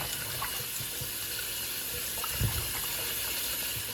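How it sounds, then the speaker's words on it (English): Cold tap water runs steadily over raw chicken in a sink, a soft continuous splashing hiss with no voices. "I'm gonna run cold water on the chicken and wash."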